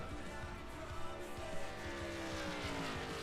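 Race trucks roaring around the track in Las Vegas during SERL off-road qualifying, steady multi-engine drone with rising and falling pitch from distant vehicles, no talking.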